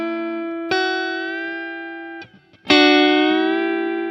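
Electric guitar with two strings, G bent up a whole step and B up a half step, sounding together as sustained double-stop notes; a first held bend, a brief muted gap, then a second louder bend ringing out.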